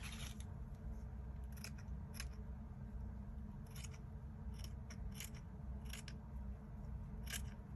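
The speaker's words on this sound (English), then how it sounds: "Cut a piece of this." Scissors snip through a piece of scrap material in a series of crisp, close cuts at irregular intervals, with a low steady hum underneath and no talking.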